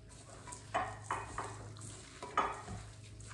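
Thawed meatloaf mixture of meat and tomato paste being mixed by gloved hands, giving soft, squelchy, irregular stirring sounds with a few louder wet pushes, close and fairly quiet, with no talking.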